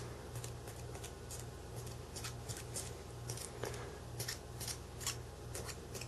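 Foil stretched over a Tangiers Pico hookah bowl is punctured again and again, giving a fast run of quiet, sharp crinkly pokes and taps in an irregular rhythm, close up and faint, with no talking.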